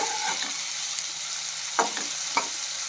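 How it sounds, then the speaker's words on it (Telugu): Pre-boiled pumpkin sizzles steadily in a pan with pink salt, a constant close frying hiss broken by a couple of sharp stirring scrapes. "ఈ సాల్ట్ కొంచెం వేసుకొని దీన్ని కొంచెం ఫ్రై అవ్వనివ్వాలన్నమాట"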